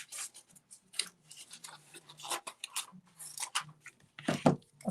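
Scissors snipping through paper card to shape an arch, a series of short crisp cuts in irregular bursts, close and fairly quiet with gaps between strokes.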